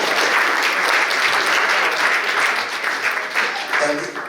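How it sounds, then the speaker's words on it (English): A jazz concert audience claps for a big band in a dense, lively round of applause that carries steadily throughout, with a few voices cheering or calling out within it. "I think the whole band deserves another round of applause"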